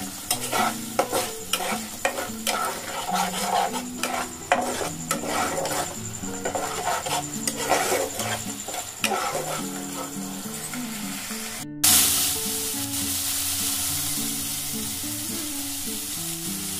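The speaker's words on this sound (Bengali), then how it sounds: "এগুলোকে সব আমি একটু আঁচটাকে মিডিয়াম টু লো আছে রেখে এগুলোকে আমি সব কষিয়ে দেবো" Spices with cumin powder are stir-fried in a pan over medium-low heat. A steady sizzle runs under repeated scraping spatula strokes, close up, then gives way near the end to a smoother, even sizzle. No one speaks.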